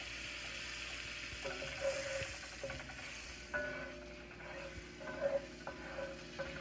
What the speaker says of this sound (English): Now I'm going to put my butter in my pan. Might start to sizzle.